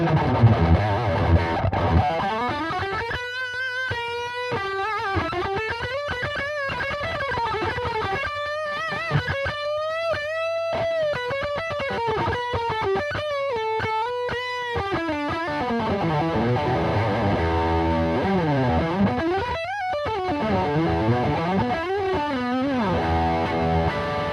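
An Ibanez GSA electric guitar is played through distortion, with sustained bending notes and chords that ring out loud and alone before easing into a quieter passage.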